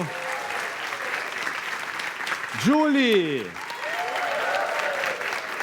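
Applause from the studio audience greets a band on a Brazilian talk show, a steady wash of clapping that runs the whole time while a voice speaks and a rising musical tone sweeps through the middle.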